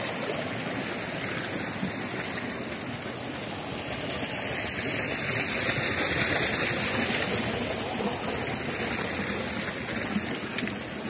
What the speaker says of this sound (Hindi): साफ शफाफ पानी चल रहे हैं